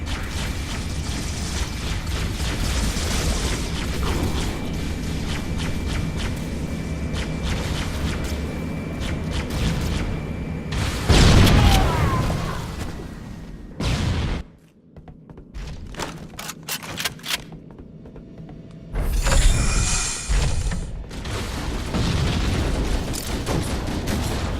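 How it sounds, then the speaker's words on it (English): A pulse generator in Halo CE overloads with grinding mechanical whirring and ratcheting, then sharp loud bursts, a sudden drop to near silence, scattered crackles and a final heavy blast. "The pulse generator overloaded."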